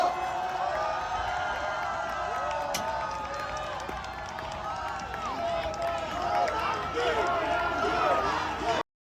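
A large crowd at an anti-impeachment political rally in Korea applauds and cheers steadily for about nine seconds, with whistles and shouts rising over the dense clapping.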